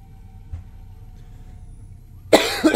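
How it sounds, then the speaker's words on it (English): A person coughs once, sharp and close, near the end, breaking a quiet low hum from a Black Ops 2 game session. "I don't know why I got a cough"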